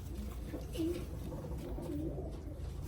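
A pair of short-beaked Arab pigeons coo softly nearby, two low rolling coos about a second apart over faint background noise.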